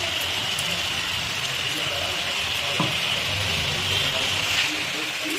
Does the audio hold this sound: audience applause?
no